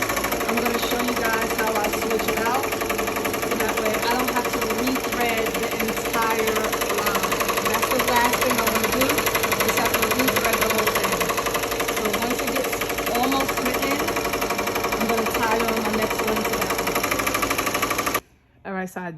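A Ricoma MT1501 embroidery machine stitches on a leather vest without stabilizer, a loud, continuous mechanical clatter and whir that runs almost unbroken before stopping abruptly near the end.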